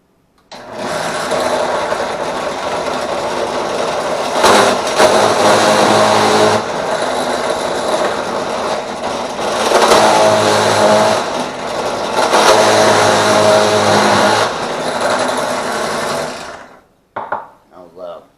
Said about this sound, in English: when I drill the hole, I'm only going to go that deep